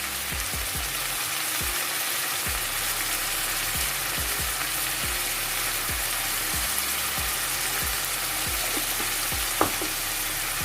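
Chicken and vegetable pizza topping is stirred in a hot pan, a steady sizzle of frying running throughout with repeated scraping strokes of the spoon, close and even, no talking.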